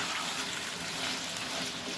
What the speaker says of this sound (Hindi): चिकन को थोड़ा तेज़ आंच पे हमने फ्राई कर लेना है